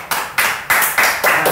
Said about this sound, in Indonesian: Ini boleh tepuk tangan.